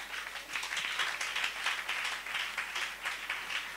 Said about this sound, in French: On acclame très fort le Seigneur pour sa parole.